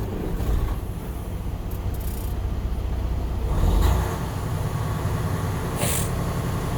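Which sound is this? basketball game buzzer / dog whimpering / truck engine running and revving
truck engine running and revving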